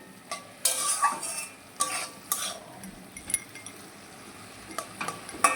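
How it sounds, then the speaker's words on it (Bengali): Vegetables frying in a little oil tempered with nigella seeds, cooked alongside pumpkin, drumsticks and potato: a soft sizzle under repeated stirring, with several scraping clinks of a utensil against the pan, fairly close. "এটা ভাজা বসিয়ে দিয়েছি ভাজা বলতে একটুখানি তেল দিয়ে কালো জিরে ফোড়ন দিয়ে তোমার বসিয়েছি"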